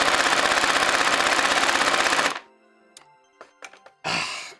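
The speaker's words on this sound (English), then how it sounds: "firing profile 2 is full auto" A motorized NERF M134 Minigun foam blaster fires on full auto, a loud, fast, evenly pulsing mechanical burst lasting about two seconds that cuts off abruptly, followed by a few faint clicks and thumps and a short whirring spin-up.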